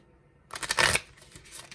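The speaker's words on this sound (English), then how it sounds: "I'll give it one more shuffle." A quick riffle of playing cards being shuffled, a short crisp burst of flapping paper after a moment of near silence.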